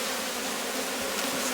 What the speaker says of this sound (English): And there are still this many bees in here.